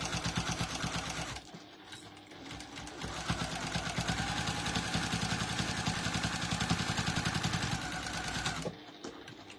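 Close and steady, a sewing machine stitches a crumb quilt with a rapid mechanical whir. It starts after a short pause, runs for several seconds, then stops with a faint click.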